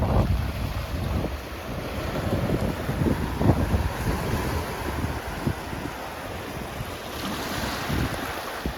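Steady wash of sea waves mixed with heavy wind buffeting the microphone, a continuous rough roar with no voices.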